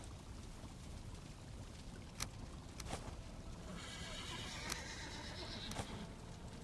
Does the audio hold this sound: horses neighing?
yes